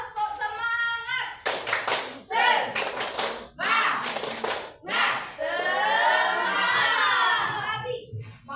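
Children repeating the 'tepuk semangat' clap, loud rhythmic hand claps in bursts together with chanting voices and an adult leading, close and lively.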